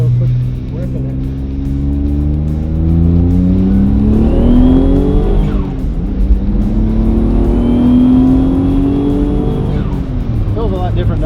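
A 500 whp Mitsubishi 3000GT VR-4 accelerating hard, its engine note climbing through the revs, dropping at a gear change and climbing again, loud and close from inside the car.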